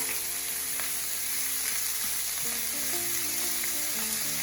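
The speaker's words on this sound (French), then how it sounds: "avec notre chair à saucisse pour bien la saisir. Ça va dégager les petits sucs de cuisson comme on aime." Sausage meat sears in a hot pan, giving a steady, dense crackling sizzle that carries on evenly from start to finish, with faint stirring scrapes and no voices.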